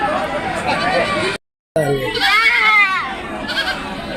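Goats bleat in wavering cries at a busy goat market, with a clear nearby bleat rising over constant crowd chatter and people talking.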